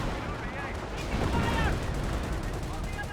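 A 25-pounder howitzer fires in Company of Heroes, a heavy boom swelling out of dense, continuous battle noise with rattling small-arms gunfire, all fairly loud and close, with faint voices mixed into the din.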